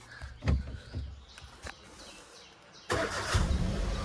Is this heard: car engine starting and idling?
yes